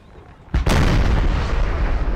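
French artillery fire in the Napoleon Total War battle game, a single loud cannon boom that strikes sharply and then rolls out into a long, rumbling decay.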